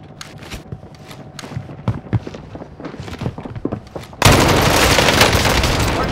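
Gunfire in the video game Call of Duty Warzone: scattered close shots and impacts give way to a sudden, sustained loud burst of dense automatic fire that fills the rest.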